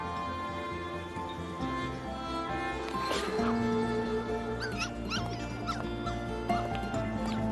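A hungry stray dog whimpers and yips in short, high, plaintive bursts over soft background music, close and fairly clear through the scene.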